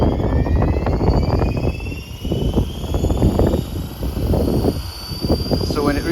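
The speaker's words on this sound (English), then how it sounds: "The motor starts running." A Trex 450-based AS350 RC helicopter's electric motor spins up with a rising whine and whirring rotor, close and fluctuating, while a person talks over it.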